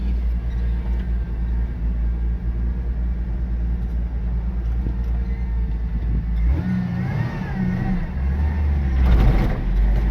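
A 1986 Dodge D100 pickup truck engine drones steadily at speed, low and rumbling, then rises and shifts with a rougher rattling tone near the end.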